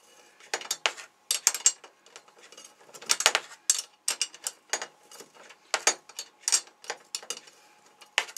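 Hand-driving a screw into a small metalworking tool, heard as a run of sharp metallic ratchet-like clicks and ticks in uneven bursts, close by and moderately loud, with no talking.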